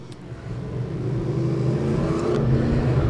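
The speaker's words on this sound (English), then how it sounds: "Camry pace car out right now" A Toyota Camry pace car engine at a motorsports park revs steadily and climbs in pitch, growing louder over three seconds with a low, droning roar and no voices.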